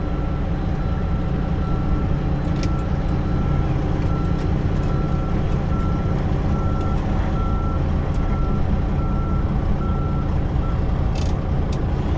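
A truck hauling a 20-foot shipping container backs up at a port, its reversing alarm beeping in an even rhythm over a loud, constant diesel engine rumble.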